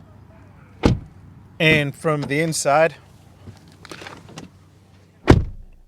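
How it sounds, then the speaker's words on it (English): Car door on a 2021 Kia K5 GT-Line sedan, closed from outside then inside: a solid thud, a few seconds of talk between, then a second firm slam. "Door open and close sound from the outside"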